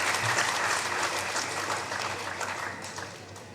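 Audience at a political gathering applauding, a short burst of dense, steady clapping that fades slightly toward the end, with no speech over it.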